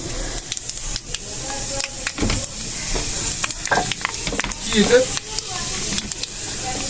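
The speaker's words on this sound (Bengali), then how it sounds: "আর এই যে কড়াই তেল বসিয়ে দিয়েছি, তেলটা গরম হয়ে গেছে। এখন পাঁচফোড়ন দিয়ে দেবো।" Panch phoron spices crackle and sizzle in hot oil in a kadai, a hissing frying sound with small pops and stirring clatter, heard beneath someone talking throughout.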